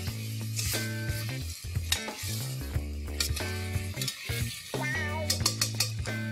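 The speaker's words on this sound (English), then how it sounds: "saute it till the raw aroma of the ginger and garlic goes off" Ginger and garlic paste sautés with meat in a hot pan, giving a steady sizzle with occasional stirring clinks, heard under tonal background music.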